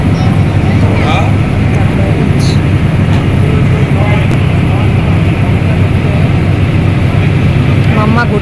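Launch boat engine running as it departs on a trip to Mayapur, a loud, steady low droning rumble that carries throughout, with people talking nearby.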